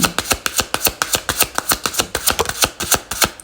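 A deck of tarot cards is shuffled by hand during a reading, giving a quick, steady run of crisp riffling clicks and slaps, loud and close, with no talking.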